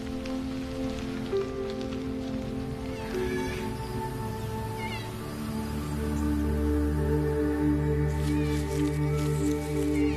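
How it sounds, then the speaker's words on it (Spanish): Rain falls through koala habitat in the Australian bush, a soft, even patter of drops on leaves and branches with sustained tonal hums running beneath, recorded fairly quietly. "no es muy divertido estar bajo la lluvia."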